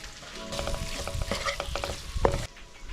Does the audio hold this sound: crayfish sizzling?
yes